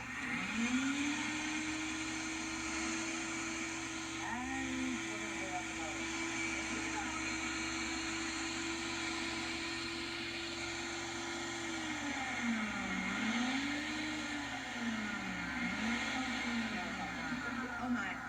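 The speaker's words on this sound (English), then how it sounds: "into a high-speed blender, and we're going to blend it until it is nice and smooth." A high-speed blender whirs continuously through frozen fruit, its motor pitch holding steady then dipping and rising as it churns through thick contents.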